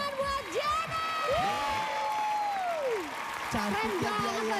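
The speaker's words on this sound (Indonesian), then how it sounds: "Tepuk tangan buat Janet." A studio audience on a televised dating show applauds, with claps mixed with whoops, sliding tonal cries and background music. The sound is loud and continuous throughout.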